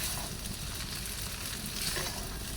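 Food frying in hot oil in a pan and being stirred, a steady dense sizzle holding at an even loudness throughout with no talk.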